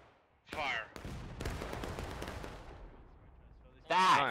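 Musket volleys fire in the Civil War game War of Rights. A sharp crack is followed by a long ragged rolling volley that trails off, and another loud shot comes near the end. Voices are faintly mixed in.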